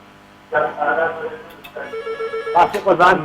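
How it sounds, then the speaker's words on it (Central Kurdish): Telephone ringing on a radio call-in show as a caller from Sulaymaniyah is put through, the electronic ring tones repeating in short bursts over about three seconds, close and moderately loud, with no talk over them. "پەیوەندی یەکەم وەرەگرم کاک ئالان وەرەگرم لە شاری سلێمانی"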